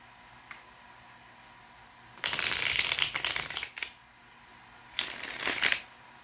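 Deck of tarot cards being shuffled up close, two dense riffling bursts of crisp flapping card noise separated by a short quiet pause.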